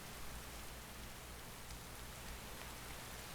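Steady rain in Minecraft, with no thunder, a dense, even hiss of falling drops that holds at a constant level throughout, alone with no voices.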